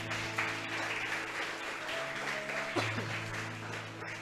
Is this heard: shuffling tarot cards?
no